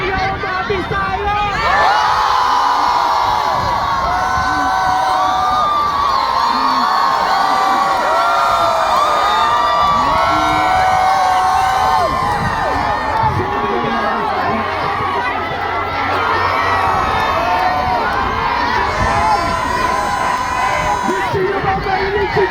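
Crowd at an outdoor peace rally in Toronto shouting and cheering loudly and continuously, a dense roar of many voices with whoops rising and falling throughout.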